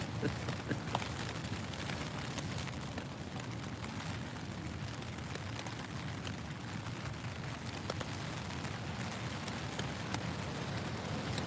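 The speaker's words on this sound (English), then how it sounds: "the rain is starting again" Steady, dense patter of rain drumming on a taut tent surface during a storm, close and constant throughout with no pauses.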